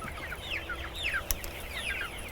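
Chickens cluck and chatter in a short outdoor burst on a farm, several birds overlapping in quick, scratchy calls over low background rumble, fairly close and moderately loud with no talking.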